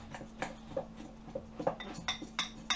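A fork beats egg in a bowl, scrambling it for a spelt dumpling soup: quick, light clinks and scrapes against the bowl in an uneven rhythm, close and fairly quiet, with no talking.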